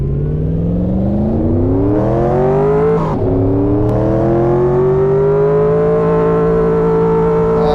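A 600-horsepower video game car engine revs hard, its pitch climbing, dipping briefly after a gear change, then holding a loud, steady high drone, with no speech.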